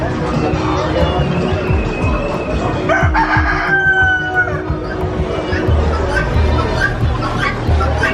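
Roosters crowing amid a busy barnyard din at a large animal market in Mexico, with people chatting nearby and continuous clucking and background noise throughout.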